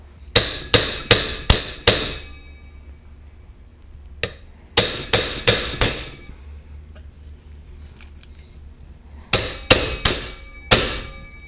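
Sharp metallic hammer taps tapping a wheel bearing seal into a Yamaha FJR1300 front wheel, in quick bursts of four or five, pausing between groups, with a single lighter tap in the middle; loud and close, no talking.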